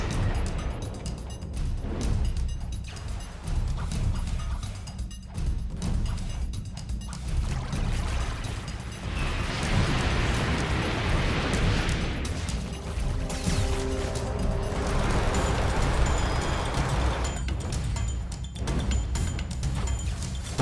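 Gunfire and explosions from the video game Blox Fruits, a dense, loud, continuous barrage of crashing blasts and bursts across the whole stretch, with no pauses.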